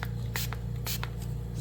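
Short hissing bursts of spray aimed at purple resin during marbling, several quick spritzes in an uneven rhythm over a steady low hum.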